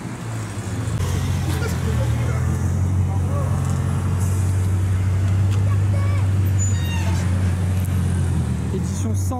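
Bugatti Chiron Sport Édition 110 ans driving on a road near Molsheim, a steady low engine rumble from inside the car, continuous and fairly loud throughout.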